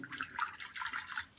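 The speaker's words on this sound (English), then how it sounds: "now the water has been running for about a minute." Tap water runs steadily from a faucet into a sink, a continuous close hiss and splash with slight gurgling variation, no voices.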